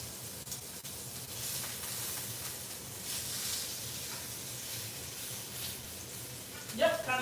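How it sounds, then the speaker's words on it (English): Pork tenderloin searing in a hot pan, giving a steady, continuous sizzling hiss at moderate level, with a brief clatter near the end. "we're going into the searing"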